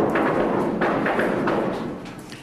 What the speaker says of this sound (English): And when they shoot a blast like that,